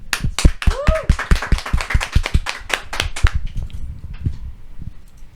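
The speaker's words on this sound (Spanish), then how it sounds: "lo recibimos con un fuerte aplauso" Loud, close clapping from a crowd greets the next presenter at a Christmas special, bursting fast and dense at first and then thinning to scattered claps over the final seconds.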